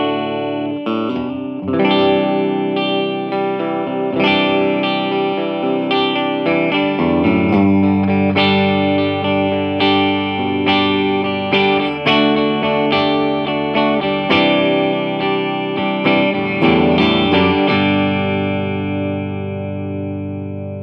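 Electric guitar played through a Blackstar ID:60 amp on its warm clean setting with gain backed off, ISF toward the American side and 6L6 valve voicing, strummed chords and picked notes ringing steadily and full for about twenty seconds, alone.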